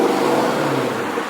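A Lexus LC 500 convertible in sport mode gives off a steady, throaty engine hum at moderate level, held evenly for just over a second.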